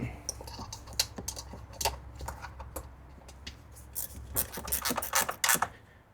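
Screws are tightened on a lawn mower engine cover, giving an irregular run of sharp ratcheting clicks and small metallic taps, close up.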